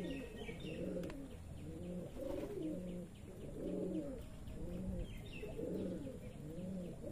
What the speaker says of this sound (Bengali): তা আপনাদের আমার কবুতর খামারের সকল কবুতরগুলাই দেখাবো আজকে।